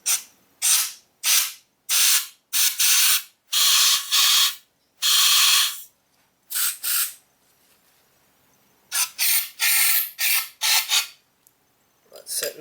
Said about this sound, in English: Just gonna spray some of this stuff in there